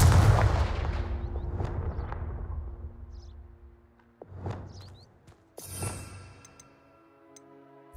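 A Confringo spell cast in Hogwarts Legacy: a heavy booming blast that decays slowly, followed by a couple of smaller impact bursts and sparkly crackling, fairly close with no talk.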